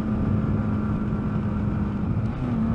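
Car engine cruising steadily in fifth gear at about 50 mph, a constant droning hum with road noise, loud and close from inside the cabin.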